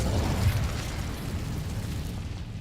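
The Incendio fire spell is cast in the Hogwarts Legacy video game, giving a muffled, rumbling burst of flame that stays low and dense and fades out over a couple of seconds.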